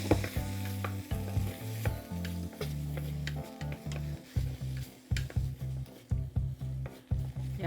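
Vegetables with Cajun spice being stirred in a sizzling pan, the loud frying hiss broken by repeated rhythmic scraping strokes of a utensil, close up and without talk.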